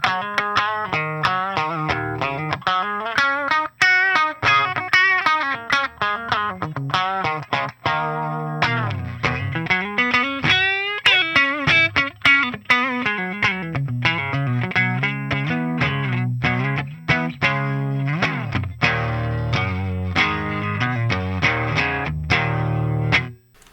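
Clean electric guitar plays through the clean channel of a B-52 ATX100 tube amp, a continuous run of chords and single notes with a bright amplified tone, no talking.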